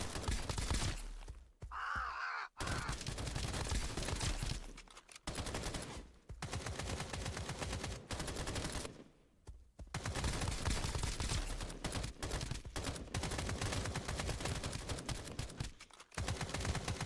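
Rapid bursts of automatic gunfire from the video game Escape from Duckov, loud and dense, broken by a few short pauses, with no talking.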